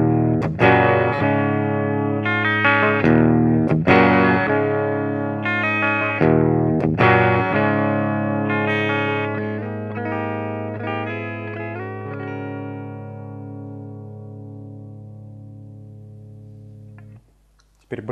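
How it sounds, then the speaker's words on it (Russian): An LTD AX-50 electric guitar plays through a Bugera 333 combo amp on a clean tone with the bridge pickup, miked with a Shure Beta 57. Several ringing chords and picked notes come first, then a long chord decays slowly to near silence. "Послушаем гитару на чистом звуке на бриджевом датчике."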